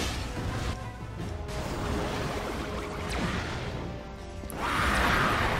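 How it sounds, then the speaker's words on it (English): Explosions in the video game Ratchet and Clank Future: Tools of Destruction form a dense, continuous barrage of crashing blasts and bursts, swelling louder toward the end, with game sound effects layered throughout. "Explosions!"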